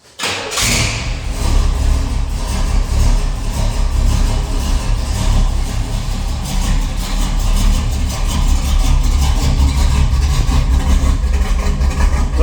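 A 1979 Pontiac Grand Prix that has sat unused for a while idles to warm up, its engine giving a loud, steady, close low rumble after a brief thump at the start, with no talking.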